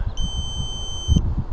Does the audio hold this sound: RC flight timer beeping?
yes